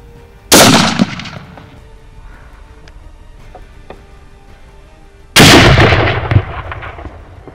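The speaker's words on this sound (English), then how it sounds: "Nice shot, well Matthew" Two loud hunting rifle shots ring out on a South African safari, one early and one about five seconds later, each a sharp blast followed by a short decaying echo over quiet outdoor ambience.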